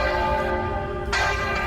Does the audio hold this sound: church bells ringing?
yes